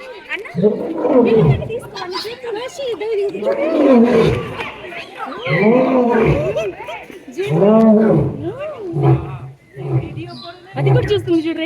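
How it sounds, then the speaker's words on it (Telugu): A lion at Bannerghatta Zoo gives a loud, close series of deep rhythmic roaring grunts, about six heavy calls in a row, with a person speaking briefly over it. "సింహం ఎలా అరుస్తుందో అండ్ ఇలాగే చూస్తుందో చూద్దాం."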